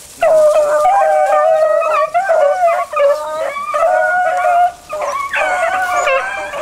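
Several rabbit-hunting dogs howl and bay loudly and continuously, their long wavering cries overlapping, with brief yips and no talking.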